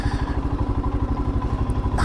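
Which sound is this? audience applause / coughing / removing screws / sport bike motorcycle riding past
sport bike motorcycle riding past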